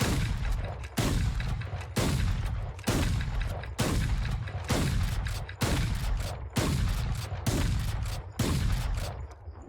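In Valorant, a Bucky shotgun fires about ten loud, booming blasts at a steady, even pace with no pauses. Each shot rings out clearly and alone, with no talk.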